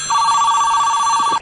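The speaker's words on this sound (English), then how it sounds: "Telephone." A telephone bell rings as a sound effect, one steady electronic trill lasting over a second, loud and alone, cut off abruptly at the end.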